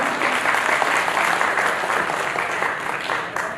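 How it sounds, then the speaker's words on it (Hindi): Audience at a national summit program in Delhi breaks into loud, steady applause, a thick continuous patter of many hands lasting throughout and easing slightly near the end. "उन सभी के लिए एक बार जोरदार तालियां।"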